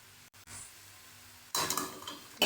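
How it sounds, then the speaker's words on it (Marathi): A spoon scrapes and clinks in a pan as chopped bell pepper is mixed with crushed peanuts, asafoetida and spices. Quiet scraping comes first, then a louder burst of stirring near the end. "सगळं एकत्र मिक्स करून घेऊया"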